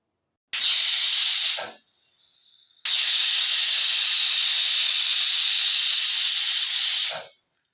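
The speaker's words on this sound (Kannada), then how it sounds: "ಎರಡು ವಿಷಲ್ ಬಂದಿದೆ" Pressure cooker whistle shrieking as steam vents while chicken biryani cooks, a loud sustained hiss in two long bursts separated by a brief quieter lull, with no talking.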